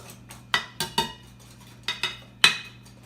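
A whisk taps a bowl in sharp, bright metallic clicks, about six strikes in an uneven rhythm, close and clear with no voices.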